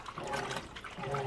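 Kenmore washing machine adding water during its wash cycle, a steady rushing, splashing inflow with sloshing beneath, close and continuous with no talk.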